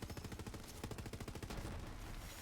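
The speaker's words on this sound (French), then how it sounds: "On envoie des micro-explosions à chaque fois qu'on tire." Rapid automatic gunfire from a video game weapon that sets off small micro-explosions with each shot, a dense, loud, continuous stream of cracking bursts with no pauses.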